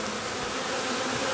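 Dense, steady buzzing of a large cluster of bees massed on the top bars of a hive at a university apiary, close and continuous with no talk.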